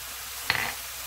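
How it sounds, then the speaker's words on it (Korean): Julienned zucchini and garlic stir-fried in a pan over medium heat, with one short scrape of the spatula and a brief burst of sizzle against a faint steady frying hiss, no talk. "애호박이 3분의 2 정도 익을 동안 볶아주세요"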